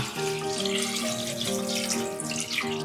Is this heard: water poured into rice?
yes